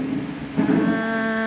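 Heavy rain pours down in a rural village setting, a steady close hiss of falling water with a faint low rumble beneath, continuous and without talk.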